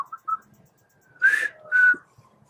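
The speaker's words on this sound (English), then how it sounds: "I'm the best whistler in the family." Someone whistles a few notes, two short soft chirps followed by two longer, louder sustained tones, close and clear against a quiet background.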